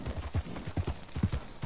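Quick, steady hoofbeats of a horse trotting in the video game Red Dead Redemption 2, clip-clop rhythm close and clear for under two seconds.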